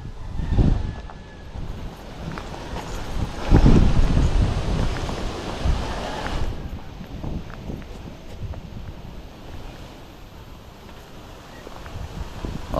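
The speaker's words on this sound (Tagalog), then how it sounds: "Grabe, lakas ng hangin, ang lamig." Strong, cold wind buffets the microphone in heavy low rumbling gusts, loudest in the early seconds and then easing to a steadier roar, with faint footsteps or movement beneath.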